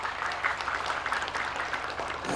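Audience of men and women clapping at an Arabic grammar demonstration, a moderate, steady patter of hands.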